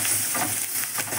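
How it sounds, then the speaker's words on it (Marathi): Coriander leaves sautéing in hot oil in a pan for kurdai bhaji, a brief steady close sizzle with light stirring scrapes, alone without voices. "सगळी कोथिंबीर तेलात टाकून द्यायची."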